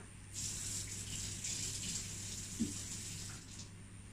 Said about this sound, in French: Après, on prend de l'eau